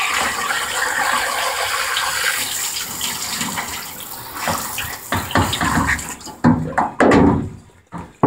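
Water running from a tap while a freshly eviscerated chicken is rinsed, a steady close splashing flow that turns into uneven splashes and handling noises toward the end, with no talking.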